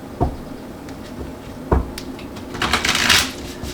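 A Banksy tarot card deck being shuffled by hand, with a few soft taps and then a quick riffling flutter, close and quiet with no talk.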